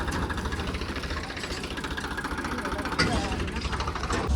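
A tractor engine idles and throbs steadily in a field at close range, with faint voices talking over it.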